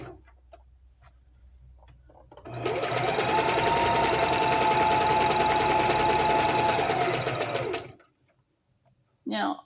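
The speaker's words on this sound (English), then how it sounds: "That is what your reverse stitching is for locking it in place." A domestic sewing machine runs in one steady, loud burst of reverse stitching to lock a seam, starting abruptly and stopping after about five seconds, with quiet room tone before and after.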